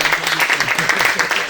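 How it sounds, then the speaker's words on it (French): Conference workshop audience applauding one another, a dense mix of overlapping claps at close range with some voices mixed in. "Là, vous pouvez vous applaudir les uns les autres."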